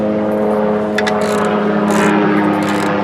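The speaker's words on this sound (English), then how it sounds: "freaking helicopter" A helicopter flying over wooded country hums loudly overhead, a droning engine with steady low harmonic tones, its rotor throb holding constant throughout.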